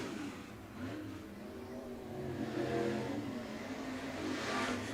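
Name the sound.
Topless Modified race cars racing at Coles County Speedway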